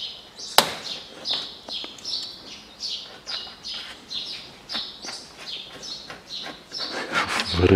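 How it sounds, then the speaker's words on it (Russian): Sparrows squabble under an outdoor shelter, a rapid series of sharp, high, scratchy chirps repeating about twice a second, fairly close and clear, with a single sharp knock early on and some faint rustling toward the end. "Воробьи дерутся."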